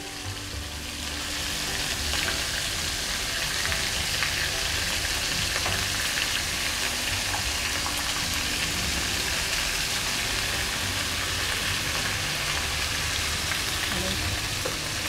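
Baingan sizzles and fries in masala in a pan over a low flame for a Hyderabadi baghare baingan, a steady dense crackle that starts after a quiet first second and continues evenly throughout.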